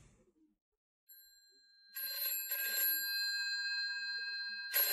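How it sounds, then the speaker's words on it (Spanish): An electronic telephone ring sounds close by in bright, repeated bursts after a moment of near silence, with a new burst starting at the end. "Jeff está durmiendo cuando suena el teléfono."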